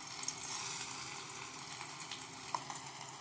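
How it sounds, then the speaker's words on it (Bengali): Finely chopped ginger fries in hot oil, a faint, steady sizzle with a soft crackle and the odd pop, heard alone and fairly quiet. "আদাটা আগে একটু ভেজে নেব।"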